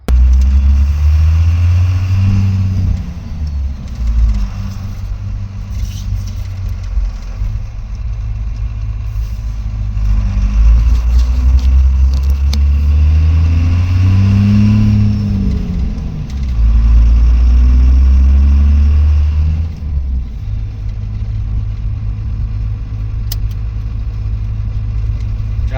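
A truck with a 12-valve Cummins diesel engine, its fuel shut-off solenoid deleted, drives along with a loud, close, low engine drone that swells and eases repeatedly as it accelerates and shifts.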